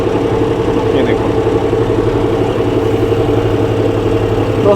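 A tractor engine runs steadily at around 1450 to 1500 RPM while driving a rotavator in a wet paddy field, a loud, continuous, close mechanical drone with a voice talking over it.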